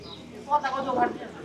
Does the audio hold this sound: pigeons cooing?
yes